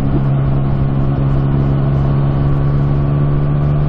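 Yamaha XSR900 motorcycle engine pulling in fifth gear on the road, a loud, steady mid-pitched drone that holds constant for the whole stretch, up close with no talk.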